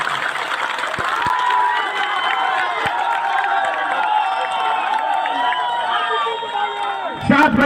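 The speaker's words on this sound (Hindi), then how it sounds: "तो इनके नाम पे जोरदार तालियां आप बजाइए" Dense crowd at a BSP election rally in Azamgarh cheering and clapping in a steady, loud wash, with shouts and whoops rising over the roar and a few sharper bursts near the end.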